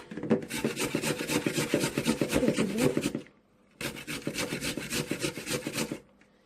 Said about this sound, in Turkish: Şimdi patateslerimizi rendeliyoruz.